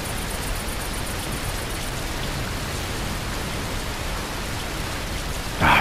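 Steady rain patters down in Amsterdam in the bus-driving game Fernbus Simulator, a continuous even hiss with no voices, and a brief louder bump right at the end.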